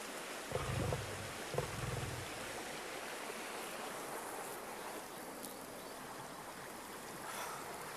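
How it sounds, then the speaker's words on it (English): A natural stream of water flowing steadily as a soft, continuous broadband wash from start to end, with a couple of brief low thumps near the beginning. "There is no other stream."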